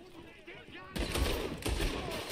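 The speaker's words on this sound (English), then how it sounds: "Everybody getting shot." Gunfire in Red Dead Redemption 2 breaks out in a sudden volley of loud, overlapping shots that continue rapidly after a quieter moment with a voice in the background.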